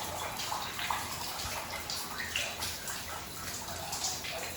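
Water running and splashing over hair while shampoo is rinsed out, a steady close gush with soft irregular splatters and drips, no talking.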